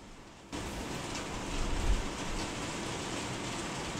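Steady rain falls outside as a constant, even wash of noise that swells slightly partway through, with no talking.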